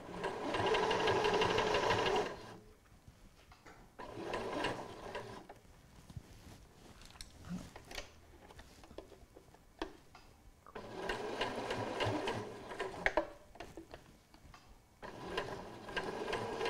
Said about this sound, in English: And then I can continue sewing.